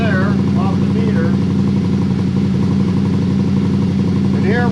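A motorcycle engine idles steadily in a workshop during a charging system and battery test, a loud, constant rumble that runs throughout while someone talks over it.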